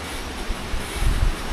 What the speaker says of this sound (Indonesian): Jadi air terjun Madakaripura ini tertinggi di Jawa dengan ketinggian sekitar 200 meter